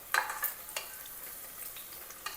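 Onions frying in a pan while being stirred, with a quiet sizzle under a few scraping and clinking strokes of the spoon near the start and end, and no talking.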